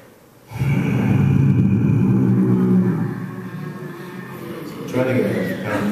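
A live performer at Unity Temple throat-sings a deep, rumbling growl in imitation of a lion's purr. The voice is close and steady, holds for several seconds, then swells again near the end.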